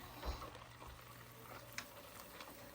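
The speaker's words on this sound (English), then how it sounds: "It's gonna start bubbling like this, and then it'll start getting foamy and frothy" Butter browning in a pan while making sourdough chocolate chip cookies, giving a quiet, steady bubbling and light crackle with a few small pops, faint and close, with no talking.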